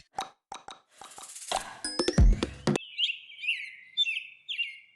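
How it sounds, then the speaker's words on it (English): Small sparrows chirp in a lively back-and-forth, a pair of birds giving bright, quick tweets close by, with a few soft plops and clinks in the middle and no talking. "Look at that, the little sparrow and her mate."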